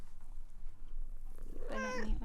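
A pet cat gives a single short, close meow near the end of a quiet room-tone stretch, with no talking around it.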